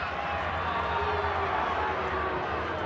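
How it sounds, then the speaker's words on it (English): Rugby league stadium crowd at a Brisbane versus Cronulla match, a dense sustained roar of many voices filling the space at steady loudness, with a commentator talking over it. "again the crowd roar"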